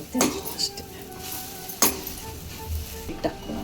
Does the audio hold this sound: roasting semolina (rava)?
yes